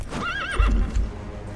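D-Horse, the horse in the video game Metal Gear Solid V: The Phantom Pain, gives one loud, close, wavering whinny, with a few soft hoof clops underneath and no talk.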